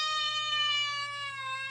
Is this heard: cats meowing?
yes